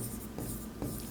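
A pen scratches across paper while figures are written in an accounting exercise, a brief faint scratchy stroke with two small accents, heard close and alone.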